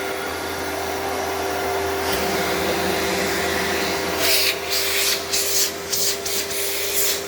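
A Kenmore Destiny Plus vacuum cleaner runs on bedroom carpet with a loud, steady motor roar and a fixed whine, then rhythmic bursts of brushing as it is pushed back and forth across the pile.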